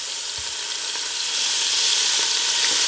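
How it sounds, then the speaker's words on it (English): A seasoned roast sears in a pot, giving off a continuous bright sizzle and hiss that grows slightly louder partway through, close up and with no talking. "And I'm going to sear it on the ends also."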